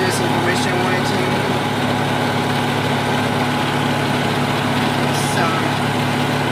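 The engine of a Flight Design CTSW light aircraft runs steadily at idle with the propeller turning, giving a constant buzzing drone with faint cabin noise.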